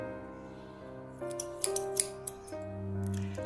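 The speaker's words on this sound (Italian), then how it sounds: "tagliamo il filo" Scissors snip through yarn while finishing a crocheted dog sweater, a few soft close clicks over a steady tonal hum in the background.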